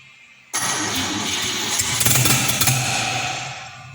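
A rebuilt 261 six-cylinder engine cranks and catches for its first start after machining, bursting in loud and close, then running rough with uneven pops and a fading tail.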